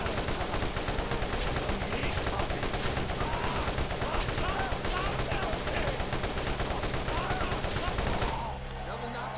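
Rapid, sustained fire from the Draco legendary gun in Borderlands, a dense loud rattle of shots with game effects running almost unbroken for about eight seconds before cutting off abruptly.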